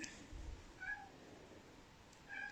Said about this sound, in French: j'ai le chat qui cogne à la porte